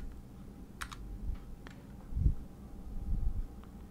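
Someone types code into Android Studio on a computer keyboard, sparse key clicks scattered over a low background hum, a few louder taps near the end.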